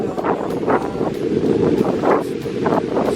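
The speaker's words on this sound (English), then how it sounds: "It's getting windy." Gusty wind roars across the microphone during a fall hike near Carter's Lake by the ocean, a continuous rushing hiss with rising and falling gusts and no talk.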